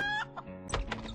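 A chicken in the adventure game Thimbleweed Park gives a short burst of clucks, close and clear, with no talk.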